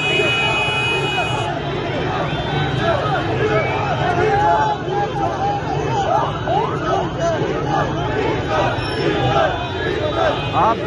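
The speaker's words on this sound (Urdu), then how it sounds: "آپ یہ نعرے سن سکتے ہیں، ڈی چوک کا جو ہے وہ نعرہ لگ رہا ہے" A large crowd chants slogans at a political rally as a convoy arrives at Jinnah Garden in Karachi, a dense, continuous roar of massed voices with whistles and vehicle noise mixed in, steady and loud throughout.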